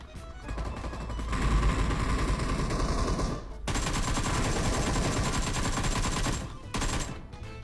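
Rapid automatic gunfire from PUBG Mobile comes in long, dense bursts, with brief pauses between volleys and a dull, loud crackle throughout.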